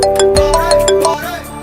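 A phone ringtone plays as a call is placed, a loud melodic electronic tune with steady tonal notes and a few rhythmic accents, heard alone without talk.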